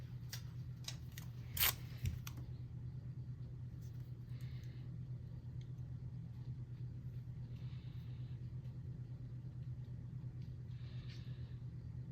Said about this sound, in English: And then we might as well go ahead and cut our other items out too here real quick.